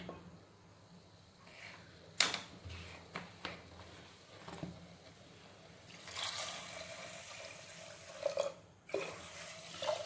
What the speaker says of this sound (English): So now I'll add the water.